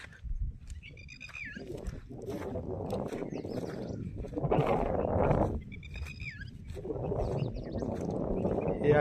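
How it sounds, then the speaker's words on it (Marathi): Small birds chirp and whistle in brief repeated bursts over a steady low outdoor rumble in a village at Morve, Khandala, Satara district, with rustling and faint farm-animal-like sounds mixed in. "पक्ष्यांचा किलबिलाट ऐकू येतोय."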